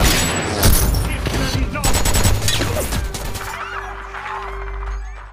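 Sniper gunfire rings out in a Denzel Washington film, a dense, loud barrage of sharp shots and crashing impacts that fades into a lingering low rumble and tone.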